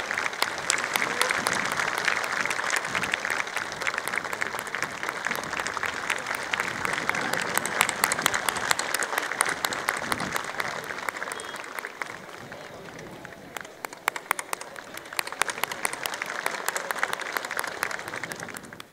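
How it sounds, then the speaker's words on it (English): Audience applause at a talk event honouring a speaker, a long sustained wash of many hands clapping, thinning slightly toward the end. "Let's have a huge round of applause for him."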